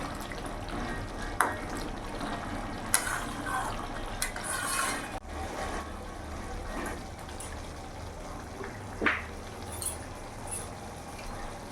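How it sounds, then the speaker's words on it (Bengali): Rohu fish curry with peas simmering in a pan, a faint, steady bubbling with occasional soft pops and clicks throughout. "এবার কিছুক্ষণ আরও ফুটিয়ে নেবো মাছ দিয়ে"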